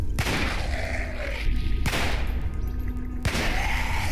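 Three heavy gunshots in Cataclysm: Dark Days Ahead boom out about 1.5 seconds apart, each a sharp loud crack with a rumbling tail, over a constant low background drone.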